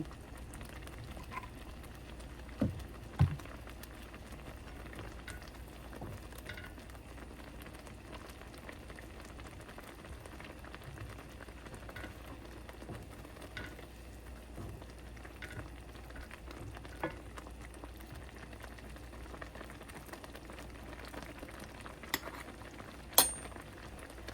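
Milk simmers with two tablespoons of ghee in a pan for a Bengali milk cake, giving a faint, steady bubbling and sizzling hiss with a few soft clinks, low and continuous throughout.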